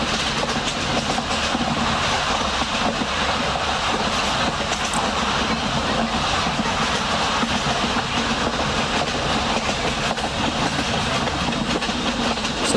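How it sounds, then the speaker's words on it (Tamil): An express train in a train simulator game, the 12106 Vidarbha Express, runs steadily with continuous wheel rumble and rhythmic clickety-clack over rail joints, loud and sustained throughout with no talk. "நம்மது எக்ஸ்பிரஸ் ட்ரெயின் தான்"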